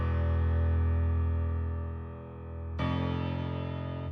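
A Keyscape piano plays low sustained root notes, one step up into F, in a hard beat; one long, loud held tone dips and swells, then a new note enters abruptly near the end, with no voices.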